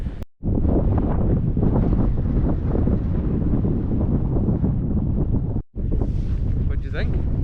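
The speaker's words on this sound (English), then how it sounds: "the wind's picking up a little bit the higher we go" Wind high on a snowy mountain in Snowdonia buffets the microphone in a loud, continuous roar, with two brief dropouts and a faint voice near the end.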